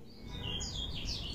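Birds chirp and tweet in a forest, a few bright calls rising over a low, steady background hum, moderately near but fairly quiet.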